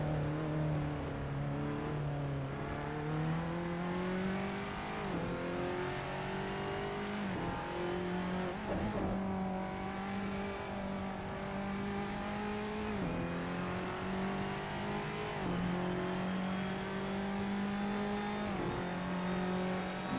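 A Formula Abarth race car engine in Assetto Corsa at the Nürburgring whines through repeated upshifts and brief lifts, pitch climbing then dropping in a steady lap rhythm, constant and without talking.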